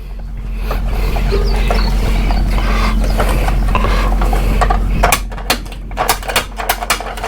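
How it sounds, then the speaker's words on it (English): A ratchet strap is worked on the curtain of a Conestoga trailer, with a steady mechanical drone first and then a series of sharp clicking ratchet strokes near the end. "You've got a ratchet right here. So what you'll do, run it through here."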